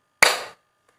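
One sharp hand clap, standing in for a multiple of three in a counting game, rings out alone and crisp, then fades quickly into silence.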